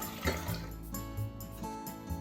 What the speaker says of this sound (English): 4 cups of water into the pot.